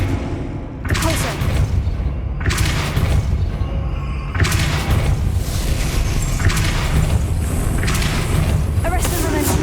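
Spell-casting effects from the Hogwarts Legacy video game: a run of booming, thudding magical bursts, with a spoken incantation over the sound effects throughout.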